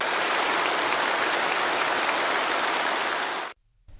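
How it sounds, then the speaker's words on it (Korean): Enthusiastic applause fills a Chinese state science and technology awards ceremony as a dense, even roar of clapping that holds steady, then cuts off abruptly near the end. "열렬한 박수소리 속에서"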